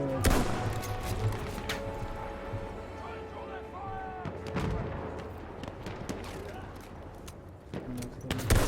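Gunfire in Battlefield 1, with repeated sharp shots and bursts, some close and loud, others farther off, scattered through a noisy battle background while someone talks over it.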